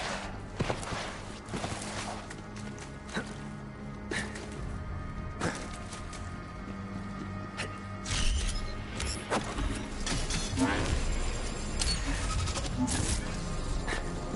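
Sheep bleating in a video game, several wavering bleats repeated over steady game effects, footsteps and mechanical clatter, moderately loud and close.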